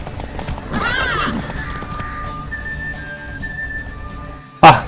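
Horse hooves clip-clop in The Witcher 3, a soft steady trotting under game ambience and a brief voice, followed by a sharp short burst at the end.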